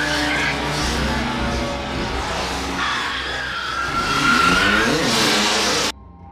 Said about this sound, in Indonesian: Salah seorang wanita yang bernama Nancy dari kelompok pimpinan Tony akan beradu balap